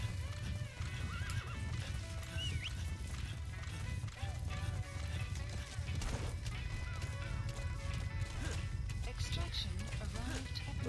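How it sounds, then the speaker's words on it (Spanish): A horse in the video game Metal Gear Solid V makes soft hoof clops and movement noises under game effects, while a player talks over the top of it. "ya podemos amarrar el caballo."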